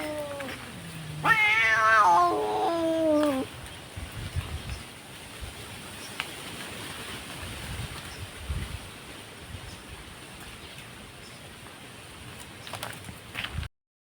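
A cat meows loudly and close by in a rural household, a few drawn-out, wavering cries in quick succession near the start, followed by quiet room ambience with faint background noise.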